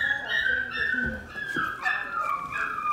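Several puppies yip, whimper and whine in high-pitched overlapping cries, close by and continuous.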